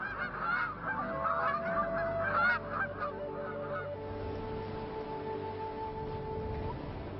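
Aleutian Canada geese honk repeatedly for the first few seconds in a refuge on Alaska's maritime coast, then fade out beneath steady sustained tones.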